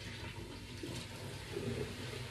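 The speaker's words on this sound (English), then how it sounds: "pour on some white vinegar" White vinegar is poured down a sink drain, making a soft, continuous liquid gurgle and splash that runs quietly for a couple of seconds.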